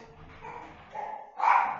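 Dogs fighting outside bark and whine in short bursts, growing louder toward the end, somewhat muffled as if heard from indoors.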